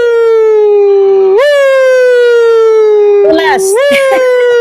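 A voice imitates an ambulance siren: one long, loud, steady wailing tone that rises sharply twice, with rough breathy noise near the end.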